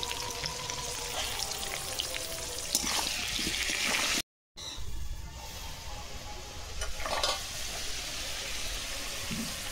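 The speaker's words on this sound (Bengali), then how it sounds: "লাল লাল করে আলু ভেজে নিয়েছি" Potato pieces frying in hot oil with salt and turmeric, a continuous crackling sizzle with occasional stirring, interrupted by one brief silent cut before the frying resumes.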